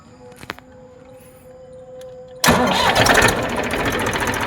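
A Massey Ferguson 7250 tractor engine cranks and catches, jumping abruptly from a quiet background into a loud, steady diesel run that continues close by, with no talk over it.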